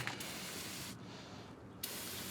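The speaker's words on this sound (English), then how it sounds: "spray on some of this stuff" A continuous hiss of an aerosol can of engine degreaser spraying close by onto a 1966 Ford wagon's engine, with a brief pause in the middle before the spray resumes.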